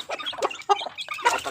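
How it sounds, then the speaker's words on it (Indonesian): A rooster clucks in short, uneven bursts on a chicken and duck farm, close and fairly clear with brief pauses between calls. "di sini ini ayam jago nih guys."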